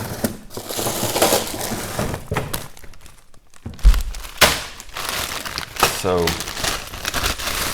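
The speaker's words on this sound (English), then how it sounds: "Oh, I need some ice." Ice being scooped into a glass while making cold brew lemonade, heard as a few crunchy clinks and thunks under a speaking voice, with one louder rattle of cubes near the middle.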